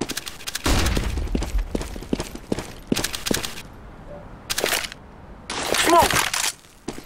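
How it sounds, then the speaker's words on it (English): Grenades, smoke and flashbangs going off in Counter-Strike during an ESL Pro League match: a run of booming thuds and bursts, some sharp pops and a hissing stretch, with a player shouting callouts over them. "I'm throwing a grenade! I'm throwing smoke! Throwing a flashbang!"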